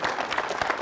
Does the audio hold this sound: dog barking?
no